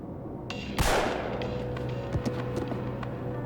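A single sharp gunshot to the head cracks out near the start, a loud percussive burst with a quick decaying tail, followed by faint ambient clicks.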